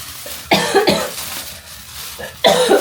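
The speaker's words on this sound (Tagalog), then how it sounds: "Sorry, dahil umuubo tayo." Two bursts of harsh coughing, a couple of hacks each, loud and close, separated by a quieter pause with a throat-clearing rasp.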